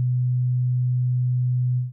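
A steady 125 Hz sine test tone plays through studio monitors, one smooth, constant low hum lasting about two seconds before cutting off.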